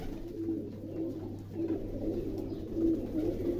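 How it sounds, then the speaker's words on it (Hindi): Pigeons coo steadily and close by, the low rolling calls repeating roughly every half second to second against a constant low background hum, with no one talking. "मेरे कबूतर बिल्कुल एक्टिव हैं, बिल्कुल ठीक है"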